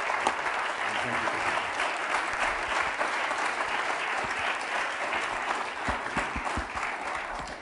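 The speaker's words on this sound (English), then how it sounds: "I would like you, please, to give him a special applause" An audience at the Zermatt Summit applauds a speaker, warm continuous clapping with scattered sharper claps, steady and fairly close throughout.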